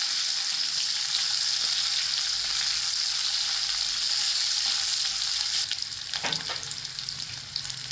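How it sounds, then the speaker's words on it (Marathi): Thinly sliced onion sautéing in a pan for a Maharashtrian cluster bean kheema, a constant close sizzle with a few stirring scrapes and a clank near the end, no speech. "एक छोटा उभा चिरलेला कांदा तो पण टाकून घेऊ त्याचा तो पण चांगला नरम होईपर्यंत परतून घेऊ"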